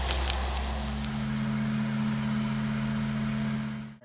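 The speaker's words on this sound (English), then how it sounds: "I'm making a small amount of garlic butter sauce just to baste the steak" Garlic butter sauce with rosemary and burnt-on steak bits sizzles on a griddle, giving a steady close hiss under a low electrical hum, with no talk.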